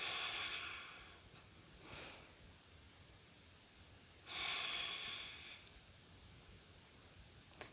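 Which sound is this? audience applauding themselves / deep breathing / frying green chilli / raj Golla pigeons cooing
deep breathing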